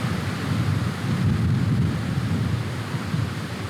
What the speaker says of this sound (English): now he's coming back at that same wind, headwind, maybe even cross right to left